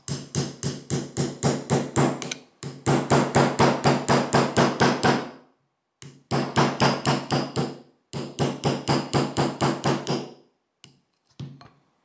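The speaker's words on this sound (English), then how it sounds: "I'm going to drift this out very carefully with a hammer" A hammer taps a punch to drift a tiny staked pin out of a SIG SG 510 (Sturmgewehr 57) rifle, landing in quick bursts of sharp, evenly spaced metallic strikes separated by short pauses, close and clear with no talking.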